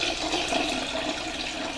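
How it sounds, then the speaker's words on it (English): Spring water is poured into a large measuring cup while making kosher dill pickle brine, giving a steady, close, continuous splashing pour with no pauses. "So we just pour some water in there. I use spring water"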